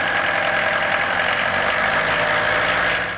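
A '90s kit car engine idles steadily and rumbles on as it is slipped into gear, a continuous close mid-pitched drone with a slight knocking texture and no talk.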